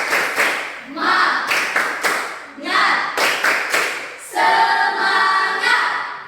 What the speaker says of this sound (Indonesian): Tepuk semangat untuk si Elfrida.